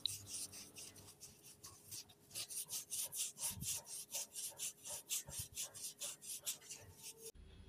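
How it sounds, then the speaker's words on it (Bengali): Orange peel scrubbed with baking soda gives a soft, rhythmic gritty rubbing, quick repeated strokes heard close up and fairly quiet. "আমি একই রকমভাবে আরেকটা কমলা লেবুর গায়ে খাওয়ার সোডা দিয়ে একই রকমভাবে ঘষে নেব।"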